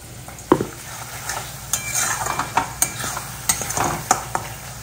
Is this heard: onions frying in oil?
yes